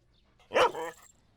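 A single short dog bark sounds in a Tamil film scene, fairly close and alone against a quiet background.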